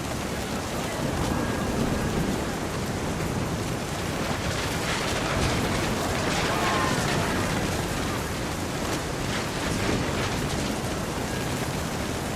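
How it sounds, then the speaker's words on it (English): Heavy steady rain pours throughout a storm in the video game What Remains of Edith Finch, with broad rumbling swells that suggest distant thunder beneath the downpour; no one speaks. "The thunder sounded much too close and full of angry power"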